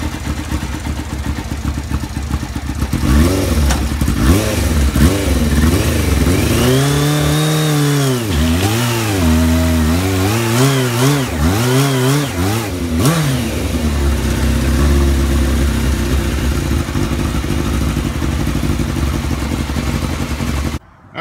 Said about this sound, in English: That's the first burnout on this bike.